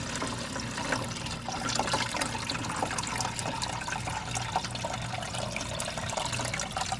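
Oil and water draining out of a machine, a continuous splashing trickle and gurgle at even strength, close by, with no voices during it.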